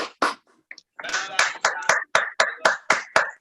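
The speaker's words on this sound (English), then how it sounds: "Please unmute your mics and give him a thunderous round of applause." Applause at an online Toastmasters club meeting: a few scattered claps, then a steady run of about nine loud, close, evenly spaced hand claps, with voices briefly mixed in.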